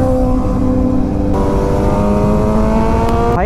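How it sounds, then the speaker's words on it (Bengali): Two motorbikes pass one after the other on a rural road near Mayapur during a monsoon ride, their loud, close engine whine holding steady, shifting pitch midway, then revving up sharply at the end. "মিরারে দেখতে পাচ্ছি দুটো বাইক আসছে পরপর"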